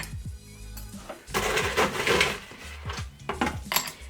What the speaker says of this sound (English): then we're going to add a couple chunks of ice